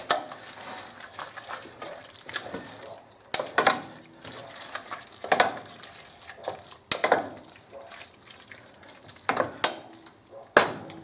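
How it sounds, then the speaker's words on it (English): Bolognese is stirred in a pan until coated and red, a soft sizzle under repeated spoon scrapes and clacks against the pan at irregular intervals, close by, with occasional faint wet squelches. "what I want to do is just mix that around till it's all coated and red"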